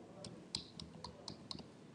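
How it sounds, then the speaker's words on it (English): Keys on a computer keyboard are pressed one at a time, including the enter key: about seven light, crisp clicks at a fairly even pace, faint and close, with a quiet voice in the background. "and then again you have to press enter on the keyboard"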